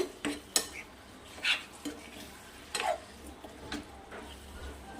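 Okra being mixed with salt in a pan for dahi bhindi, soft intermittent scrapes and light clinks of a spoon against the pan over a faint low sizzle, quiet and close, with no talking.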